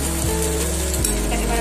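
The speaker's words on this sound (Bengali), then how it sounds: "এই চালটাকে একটু ভালো করে আমি মাখিয়ে ভেজে নেবো।" Marinated rice for sweet yellow Basanti pulao sizzling and frying in a hot pan over high flame, a steady close crackle throughout with no talk.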